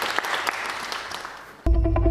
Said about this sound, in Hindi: ट्रेलर चलाने से पहले तालियां